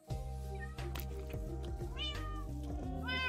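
Cat meowing in a video game, several clear, close meows repeating over a steady tonal background, with a little talk.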